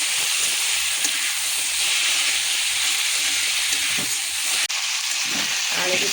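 Potatoes and onions frying together in a pan for aloo palak masala, giving a steady close sizzle and hiss throughout with a brief clatter near the end.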